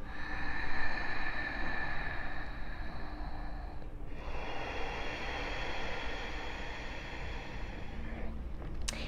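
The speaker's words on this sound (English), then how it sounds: "Ujjayi breathing is done with a little bit of a Darth Vader sound." Steady, hissing ujjayi breath drawn through a constricted throat, a soft oceanic rasp with a brief pause between inhale and exhale, close and alone.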